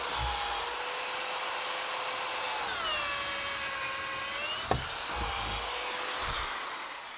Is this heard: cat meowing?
no